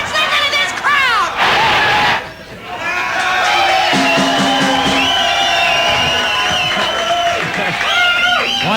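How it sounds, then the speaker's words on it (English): Baseball crowd roaring after a Padres score, a loud, sustained stadium cheer full of whoops, yells and screams, with voices shouting close by over the crowd. "Just listen to this crowd!"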